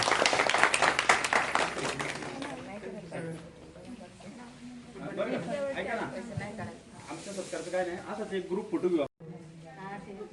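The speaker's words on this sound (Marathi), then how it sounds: "तुमच्या या चांगल्या मैत्रिणीसाठी एक जोरदार टाळ्या वाजवा." A brief round of audience clapping for a friend at a farewell ceremony, crisp claps at the start that quickly give way to a voice speaking over a hissy background.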